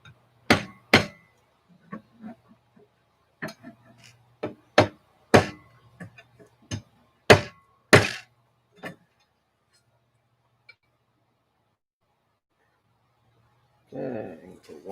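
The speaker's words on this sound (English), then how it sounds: "Hey, this is a tappy tap." Sharp taps knock a part into place during assembly of a Prusa 3D printer, a run of about a dozen irregular hammer-like ticks over the first nine seconds, then quiet before brief rustling at the end.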